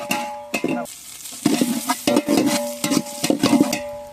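Onions and chillies fry in a pan for a village-style chicken biryani, with a steady close sizzle broken by repeated scraping, stirring strokes in an uneven rhythm.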